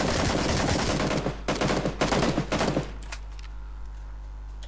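Bursts of automatic gunfire in PUBG, a rapid string of loud shots for about three seconds, then quiet with faint scattered pops.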